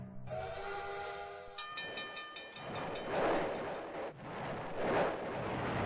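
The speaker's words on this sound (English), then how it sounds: "Catch a ride on this totally safe train." A video game train, which turns out to be a robot with chainsaw arms, sounds a whistle-like tone, then a steady loud rushing hiss and rumble of a train in motion.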